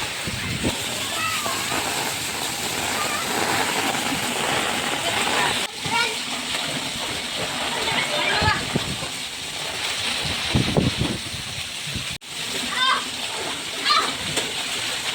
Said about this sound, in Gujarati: ફૂલ જ વરસાદ આવી રહ્યો છે